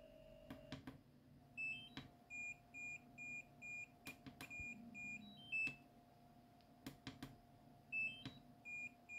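Short electronic beeps from a DJI Mini 2 / Air 2 remote controller buzzer muted with a 1K resistor, quiet repeated chirps in small clusters over faint background noise and soft handling clicks.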